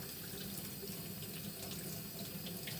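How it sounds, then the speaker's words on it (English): Tap water runs steadily into a kitchen sink while potatoes are washed under lukewarm water, a continuous close splashing rush with no talk. "I like to wash mine in like lukewarm water so I know for sure that all the dirt is coming off."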